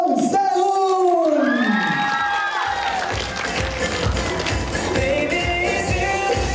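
A fan meeting crowd in Bangkok erupts in loud cheering and high-pitched screaming to welcome a singer, opening with one shrill rising scream before a sustained roar of shouts and whoops fills the room.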